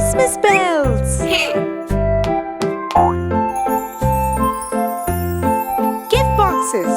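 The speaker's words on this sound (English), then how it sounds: "Christmas bells. Four Christmas bells." Bright jingling and dinging of Christmas bells in a children's cartoon, mixed with playful plops and boings, loud and near, with cartoon voices chattering between the chimes.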